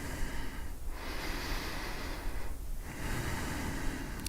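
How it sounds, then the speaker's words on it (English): Deep breaths during a vinyasa yoga flow, held in Sphinx Pose with forearms on the ground: two slow, full breath cycles, each a long broad rush of air with a brief pause between, close and steady with no talking. "Let's take 2 last nice deep breaths."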